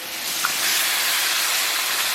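Beef chunks drop into a wok of hot oil with ginger, garlic and scallion and set off a loud, steady hiss of sizzling that swells and holds close up, with no voices over it.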